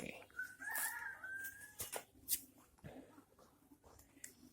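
A chicken being treated for a rattling respiratory illness makes short clucking and vocal sounds close by, interspersed with handling noises and brief clicks in a quiet setting.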